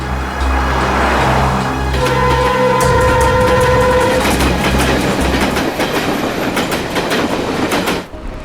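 Train running on rails during a journey, a loud continuous rumble with rhythmic clatter and a steady tonal whine in the middle, no voices.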